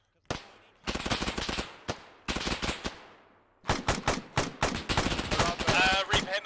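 Bursts of automatic gunfire from a military firefight in ArmA 3, loud sustained volleys with brief gaps, plus a few isolated single shots, close and dominant with no voices over them.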